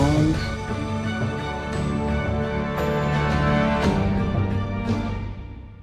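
Plastic recorder flute calls processed with EQ, compression and reverb sit in a dense, washy musical texture, with sustained tones and soft accents blending together continuously.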